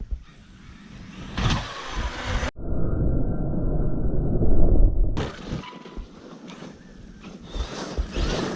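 An Arrma Kraton 8S RC car bashes through snow, its electric motor whining in loud bursts with a sustained high-pitched run in the middle, then dropping back to scuffing and lighter revs.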